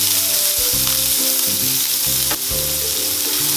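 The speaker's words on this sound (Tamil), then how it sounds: "வெங்காயத்தை நல்லா வதக்கிக்கோங்க." Chopped onion frying in hot oil with cloves, cinnamon sticks and a bay leaf for chicken gravy gives a steady, close sizzle that runs throughout with no talking.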